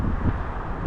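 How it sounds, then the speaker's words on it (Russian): Wind blows outdoors in hilly, windmill-dotted Andalusia, a steady broadband roar and buffeting against the microphone, constant and fairly loud with no talk. "постоянно очень ветрено"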